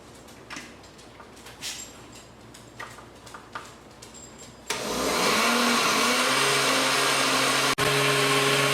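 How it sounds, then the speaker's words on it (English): After a few seconds of quiet clicks and handling, a blender roars on loudly, whirring pineapple hot sauce ingredients with sugar, salt and pepper in a steady, close, sustained motor drone. "And now we blend again."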